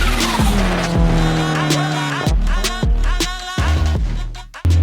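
A 600 hp Ford Escort with a Miata engine driven hard, loud engine tones rising and dropping through quick gear changes and revs, heard close and strong with sharp breaks between pulls.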